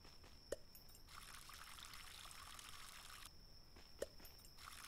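Plants are watered in the video game Spirit of the Island: a quiet, gentle pour of water runs for a couple of seconds, with small clicks before and after it.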